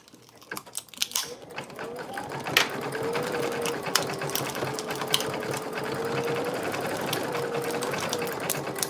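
Embroidery machine stitching out a short design with gold thread, giving a steady fast mechanical whir and rapid needle clatter at close range, with brief faint talk near the start.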